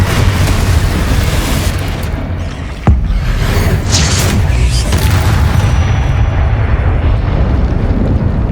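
In the video game Hogwarts Legacy, a Confringo spell explodes with one sharp, loud crack. A rumbling roar follows over dense, continuous game noise.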